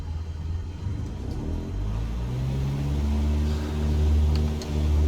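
A simulated aircraft engine run up to full throttle with the brake on in Microsoft Flight Simulator 2020, a low rumbling drone that climbs steadily in pitch and loudness, with no talk.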